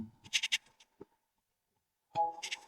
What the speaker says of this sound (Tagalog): Kambing ang mga yan.